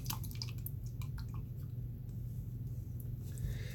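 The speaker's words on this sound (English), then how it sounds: "I'll wash the brush off." A watercolor paintbrush is swished and rinsed in a water pot, giving soft dripping and pattering splashes over a low steady hum, close up and without speech.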